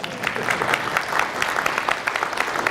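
An audience in a convention hall claps during a lecture, a dense, steady burst of applause that holds evenly throughout.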